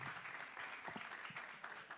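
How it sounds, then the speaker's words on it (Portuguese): Audience at a book launch claps steadily, a fairly quiet, continuous round of applause in a room, with a few more distinct claps standing out. "Uma salva de palmas para essa mulher maravilhosa."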